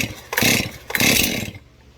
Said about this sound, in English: This is the proper way to start your chainsaw.